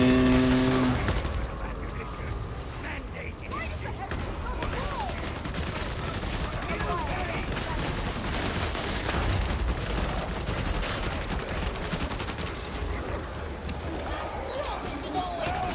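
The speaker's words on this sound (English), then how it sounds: "just keep firing into the horde." Sustained gunfire poured into an enemy horde in the video game Warhammer 40,000: Darktide, a dense, continuous roar of shots layered with game effects and a voice talking over much of it.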